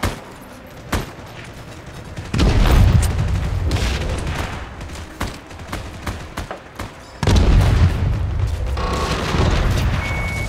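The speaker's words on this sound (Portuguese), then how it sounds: "Tá jogando granadinha, vou jogar granadinha também." Grenade explosions and gunfire in the video game Heroes and Generals, with several loud booming blasts, the strongest near the middle and end, over scattered shots and background battle noise.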